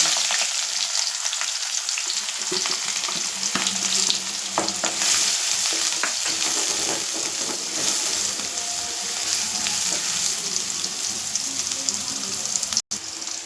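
Curry leaves and onion hit hot oil with popping mustard seeds, giving a loud, continuous sizzle and crackle with occasional stirring scrapes, steady for the whole stretch and heard alone.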